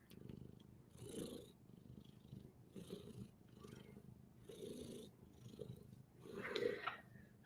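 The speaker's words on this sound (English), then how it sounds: "Little purring, little ASMR." A cat resting on a person's chest purrs softly and steadily up close in a quiet room, with rhythmic pulses of breathing running through the purr.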